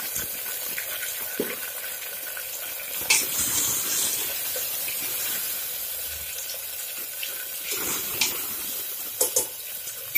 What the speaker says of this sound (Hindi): इसमें ये कटे हुए 5-6 कटे हुए टमाटर है वो डालते हैं।